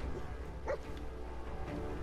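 Dog in the video game Fallout 4 giving a short bark and whimper near the middle, set against a constant low ambient background.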